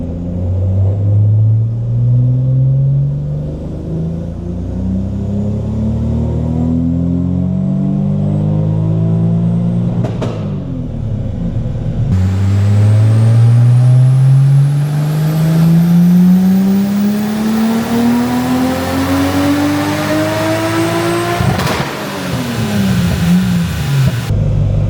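A turbocharged Toyota Supra mk4 engine revs hard on a dyno, rising twice in long, loud sweeps as the pitch climbs steadily before dropping back, with no voices.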